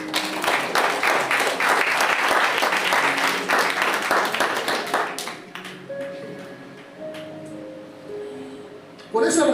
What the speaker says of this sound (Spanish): Denle un aplauso a Dios por eso.